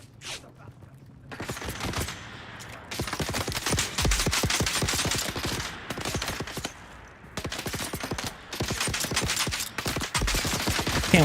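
Rapid video game gunfire in repeated bursts of dense automatic shots, loud and close, with brief pauses between volleys and occasional talk.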